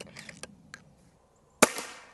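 A Stoeger XM1 Ranger .25 PCP air rifle fires once, giving a sharp loud crack after a few faint clicks and handling noises.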